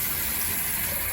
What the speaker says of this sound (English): Don't let the water run